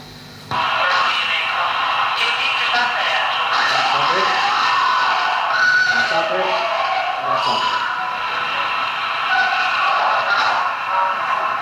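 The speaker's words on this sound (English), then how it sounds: "what we're hearing there is a scream that was just generated from nowhere" Alleged paranormal scream from a ghost investigation, followed by screams from two female investigators: several shrill, sustained cries with wavering pitch over a noisy, reverberant background recording, fairly loud and continuous.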